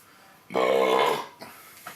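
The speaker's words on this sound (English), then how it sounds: "I think I've got a burp coming" A single loud, close burp lasting under a second, followed by a couple of faint breathy sounds.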